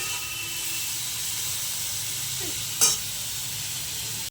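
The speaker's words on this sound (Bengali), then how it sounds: "লবণ দিয়ে একবার নাড়াচাড়া করে দিলাম" Chicken salad being stirred with salt in a pan, a steady faint sizzling hiss running throughout with one brief sharp clink near the end; no voices.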